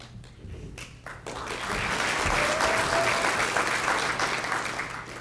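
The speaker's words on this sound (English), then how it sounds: "And keep the applause going for the chief." A crowd at a fire department awards ceremony keeps applauding for the fire chief, scattered claps quickly swelling into full, sustained applause that stays loud to the end.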